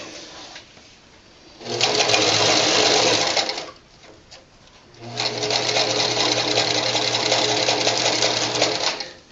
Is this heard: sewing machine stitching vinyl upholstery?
yes